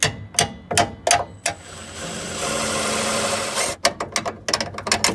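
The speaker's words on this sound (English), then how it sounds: "And then we just tap this one out gently, gently." A hammer taps sharply on a rear suspension bolt in quick metallic strikes, then pauses while a steady mechanical hum fills the gap before another run of taps.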